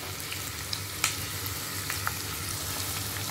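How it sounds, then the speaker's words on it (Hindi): Onions frying in a pan toward golden brown for a tomato mutton gravy, an even close sizzle with a few sharp scrapes and taps of a stirring spoon, no voices. "और प्याज भी इस तरह से डालेंगे हम अच्छी तरह से। हम इसे गोल्डन रंग आने तक पका लेंगे।"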